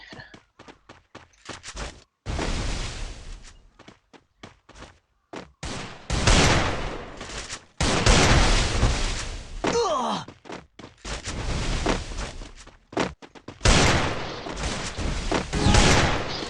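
Gunfire in a video game shooter, with loud bursts of rapid shots and single cracks repeating through the clip among other game effects, close and dense.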